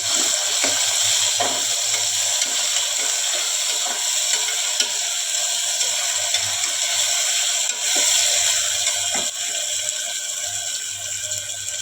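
Tomatoes, chopped onion and garlic-chili paste being stirred together in a hot pan, giving a steady, continuous sizzle and hiss with soft scraping throughout, close and even in level with no talking.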